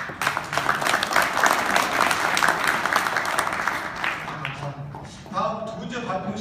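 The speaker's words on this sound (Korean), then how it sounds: "박수로." Applause from a seminar audience at a talk on patent management, dense clapping running steadily under a speaking voice, then easing off as the voice continues over it near the end.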